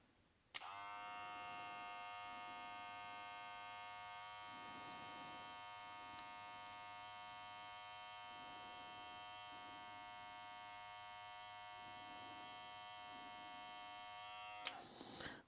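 Cordless hair clipper switched on at high speed with its blades attached, a steady high-pitched electric whine and buzz held for about fourteen seconds, with a sharp click at start and stop.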